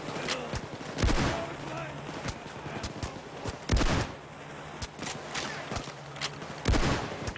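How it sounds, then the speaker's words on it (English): Shotgun blasts from the heist shooter Payday 2, three loud broadband bursts spread roughly three seconds apart amid a busy backdrop of game noise, scattered smaller gunfire crackles and clatter. "Good thing I have this shotgun."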